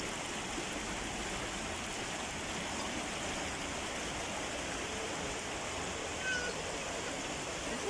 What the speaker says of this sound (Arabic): بس على صوت المي اسمعوا.